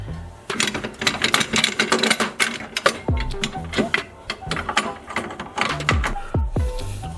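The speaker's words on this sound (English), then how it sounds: "I'm now going to go ahead and get this lower control arm bolts started." A ratchet starts the lower control arm bolts on a Honda Civic, giving repeated bursts of quick, close clicking with brief pauses between strokes.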